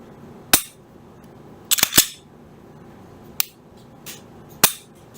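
Trigger of an Elite Combat rifle trigger group, roughly a 4-pound pull, being pulled and reset: a few sharp isolated clicks and snaps, one quick double, spaced across quiet pauses, close and crisp with no talk.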